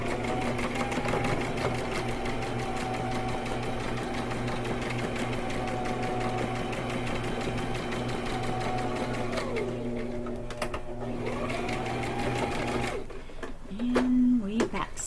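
A sewing machine runs steadily while back stitching cotton fabric, its whirring motor and rapid needle clatter close and continuous, briefly slowing and resuming near the end; a person talks over it.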